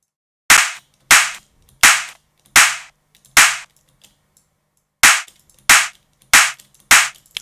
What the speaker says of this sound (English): That's a cool clap.